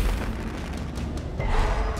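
An explosion in the video game Darkest Dungeon, a deep rumbling boom with a dense noisy wash that swells again toward the end, fairly close and full.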